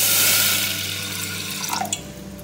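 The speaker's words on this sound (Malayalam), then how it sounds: "ഇനി നമുക്ക് ഇതൊരു കുക്കറിലേക്ക് ഇട്ടിട്ട് അതിലേക്ക് ആവശ്യത്തിന് വെള്ളം ഒഴിച്ച് കൊടുക്കാം" Water poured into a pressure cooker holding horse gram, a short close splashing pour that gurgles and tapers off within about two seconds, with no talk.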